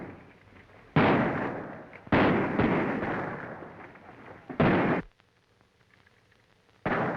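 Battle gunfire from a 1937 adventure film, several loud booming bursts of shots and blasts separated by brief quieter gaps, each decaying into rumble.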